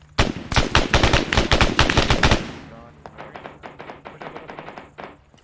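Automatic gunfire in the ArmA 3 military shooter: a loud, rapid burst close by, followed by a quieter, more distant stream of shots.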